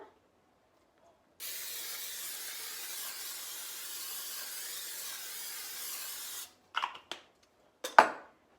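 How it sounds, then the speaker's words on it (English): A steady hissing spray of cooking spray onto a glass Pyrex baking dish runs for about five seconds, followed by a few short clinks and taps of handling in a quiet kitchen. "We are going to spray our Pyrex dish with Pam."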